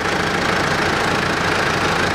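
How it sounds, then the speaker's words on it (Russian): A 2008 Mitsubishi Pajero 3.2-litre engine idles steadily right after an oil and filter change, a loud, even mechanical rumble with a faint knocking texture and no voices. "Двигатель завелся и работает нормально,"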